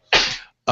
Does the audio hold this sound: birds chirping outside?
no